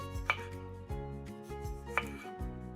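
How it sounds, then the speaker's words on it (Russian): A knife cuts a small tomato into cubes, giving two or three soft, close taps against a board that sit beneath gentle background music with no speech. "Помидор нарезаем сначала кружочками"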